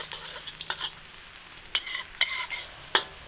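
Shallots frying in a pan give a low, soft sizzle punctuated by several sharp scraping strokes and clinks of a spatula stirring against the metal, heard close with no speech.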